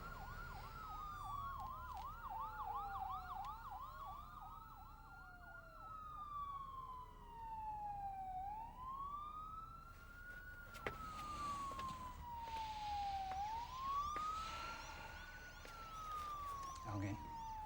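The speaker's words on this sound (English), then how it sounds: "every fire engine in town is on its way to the Northern Eagle" Wailing fire engine sirens sweep up and down across the whole stretch, several overlapping at once, with one rising and falling tone dominating near the end over steady traffic rumble and faint voices.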